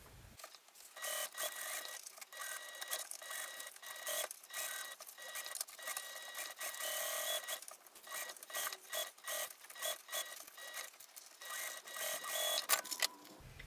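A sewing machine runs a basting stitch along a pouch seam in quick bursts, rapid mechanical whirring and clatter starting and stopping repeatedly, close and fairly quiet.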